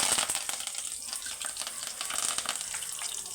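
Cumin seeds and curry leaves spluttering in hot oil, a steady bright crackle and sizzle throughout, close and fairly quiet.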